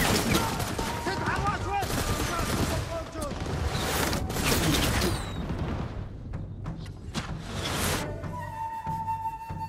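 Gunfire in the Ghost of Tsushima video game, a dense barrage of shots and booms over busy battle noise, loud and near, tapering off toward the end.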